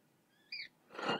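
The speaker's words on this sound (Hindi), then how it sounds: "चूचू की आवाज, ये चिड़िया बोल रही है।" A bird chirps outside from a tree, a short pair of high whistled chirps, faint and somewhat distant, followed by a brief burst of rustling noise.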